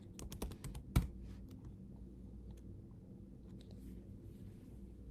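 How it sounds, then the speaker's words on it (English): Computer keyboard typing: a quick burst of close keystrokes, then one sharper, harder key press like Enter, followed by a quiet room hum with a few faint clicks. "We can type sex into the Query Builder search bar below and hit Enter."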